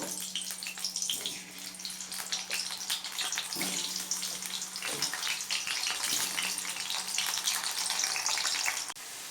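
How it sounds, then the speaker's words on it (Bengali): Potatoes fry in mustard oil in a wok, giving a steady, close hissing sizzle broken by occasional clinks and stirs. "আলুগুলোকে ভালো করে ভেজে নিই"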